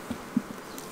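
Honeybees hum around an open hive during queen supersedure, a faint steady buzz close by, with a few soft taps and bumps over the drone.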